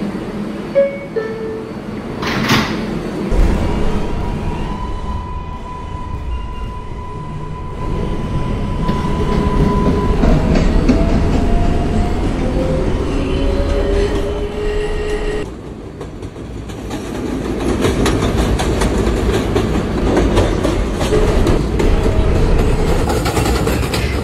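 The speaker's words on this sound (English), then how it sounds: "Manhattan-bound 4 train." An R142A New York subway 4 train runs underground, wheels clattering and rumbling steadily with brief squeals and tonal motor whines rising and falling, heard from inside the car.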